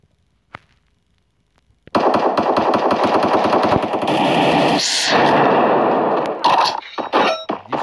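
Rapid bursts of automatic gunfire from a shooting video game, loud and nearly continuous after a short quiet start, with metallic clanks and shot impacts mixed in and a brief lull near the end.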